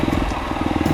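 The engine of a Kawasaki KLX 230 cc trail motorcycle gives a steady, close, pulsing rumble with a slightly rattly texture, heard alone for about a second.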